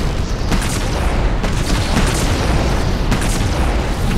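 Dense, continuous explosions fill a Halo 2 Anniversary battle as enemies are bombarded, with loud overlapping booms and bursts rolling without pause and no quiet gaps.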